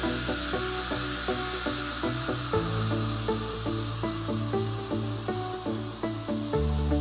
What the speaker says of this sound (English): Continue to lower the spindle down in the Z-axis until the sound from the spindle is stopped